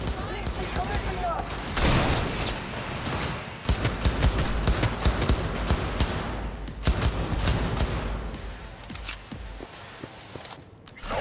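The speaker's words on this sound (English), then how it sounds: "That was my shotgun." Gunfire rattles through a firefight in the video game Cyberpunk 2077, with a shotgun among the shots: loud, dense bursts packed closely together for the whole stretch, with a voice speaking over the shooting.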